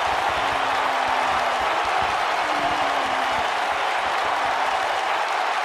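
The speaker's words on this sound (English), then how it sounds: "This crowd never doubted The Rock's ability to get back in this thing" A large arena crowd in the WWE 2K19 wrestling game roars and applauds in a dense, continuous wash of sound, loud and steady throughout an extreme rules match.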